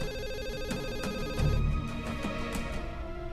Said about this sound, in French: Réponds au téléphone, tu n'entends pas qu'il sonne?